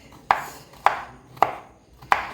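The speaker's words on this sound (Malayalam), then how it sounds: "ഇത്തിരി ബലം പിടിക്കണം നമ്മൾ നുറുക്കാൻ." Four sharp knife chops cut through a fibrous nendran banana stem on a board, evenly spaced about half a second apart, close and crisp with a short ring after each strike and no talk.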